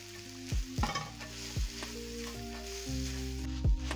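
Eggs fry in a hot cast iron pan still greasy from bacon, a quiet continuous sizzle broken by several low thumps and knocks, close by, with no speech.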